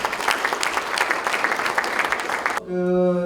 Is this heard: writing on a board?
no